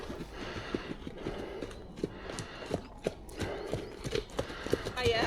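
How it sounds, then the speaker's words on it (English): Horses trotting through winter woodland, their hooves clip-clopping in a steady, fairly close rhythm with occasional snorts, while people talk and greet each other over the hoofbeats. "trotting horses"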